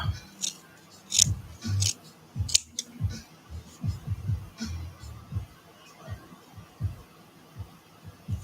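Scissors snipping fabric for a handmade art doll, a series of short close cuts spread irregularly across the stretch, with soft handling noises between them and no talking.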